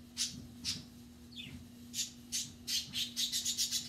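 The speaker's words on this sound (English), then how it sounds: "Those birds were quiet up until 1 minute ago, 30 seconds ago. Then they start yakking." Birds outdoors in Kentucky calling in repeated squawks and chirps, starting sparse and then coming in a quick, closely spaced run, moderately close over a steady low hum, no talk.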